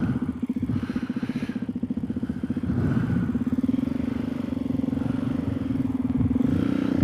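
A Suzuki DR-Z470SM motorcycle riding along, its steady single-cylinder engine drone loud and close with rising throttle and rumbling wind noise throughout.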